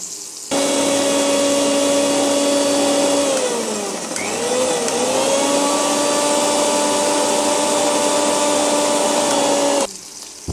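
Electric grinder making a paste of soaked poppy seeds and green chillies: a loud, steady whirring motor that runs for about nine seconds, dips briefly in pitch partway through, then cuts off abruptly.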